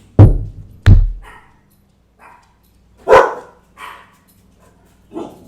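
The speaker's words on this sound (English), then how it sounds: "Dogs." Dogs bark in short, separate bursts: two loud close barks, then a gap, then several more barks of varying loudness, some farther off, with quiet in between.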